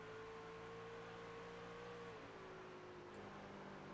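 A race truck engine in the Apex sim racing game, at the Iowa 100, drones steadily at high revs, dips slightly in pitch midway, then holds nearly constant throttle as a far-off sustained whine.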